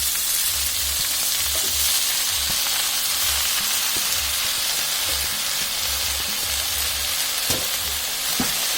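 Red amaranth greens and onions frying over full heat in a pan, a loud, dense sizzle and hiss filling the whole stretch, with a few faint stirring knocks and no voices.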